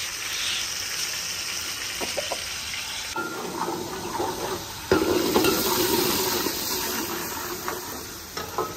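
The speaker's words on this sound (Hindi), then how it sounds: "माशाल्लाह जी, मिसाले अच्छे तरीके से भुनीच रहे हैं।" Spices roasting in oil in a pan for aloo palak, a steady close sizzle and crackle with occasional stirring scrapes, moderately quiet and continuous.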